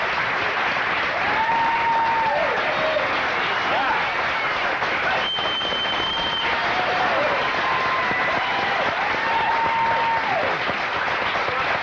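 A studio audience applauds steadily to welcome a blues musician onto a talk show set, the dense clapping filling the whole stretch while faint voices and whoops rise above it.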